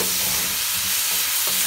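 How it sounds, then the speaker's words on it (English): Pickled mustard greens and shredded winter bamboo shoots stir-frying in vegetable oil in a wok, a continuous loud sizzle with soft scraping of the spatula, no talking. "I'm now doing the stir fry, 2 tablespoons of vegetable oil, and to the 雪菜, and the 冬笋丝, bamboo shoots, and the Chinese pickle"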